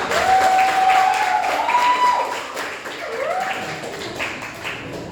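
Group applause from a seminar audience, a dense wash of many hands clapping together at close range, running steadily with a whistle-like tone above it.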